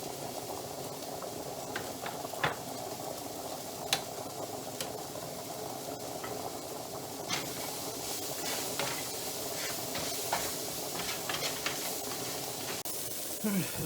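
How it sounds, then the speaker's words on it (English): Vegetables with celery salt and pepper cooking down in a pan for vegan penne bolognese, a steady soft sizzle and simmer with occasional stirring clicks, close and continuous. "I'll just let the veggies cook down for a little bit"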